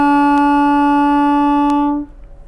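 A clarinet plays a sustained, steady reedy tone for about two seconds before stopping, close and clear with no talking.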